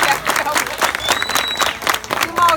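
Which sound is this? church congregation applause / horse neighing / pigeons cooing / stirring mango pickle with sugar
church congregation applause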